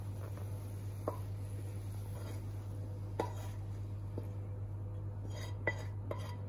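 Vegan macaroni ingredients being combined in a pot, occasional light clinks and scrapes of a utensil against the pot over a steady low hum, no voices.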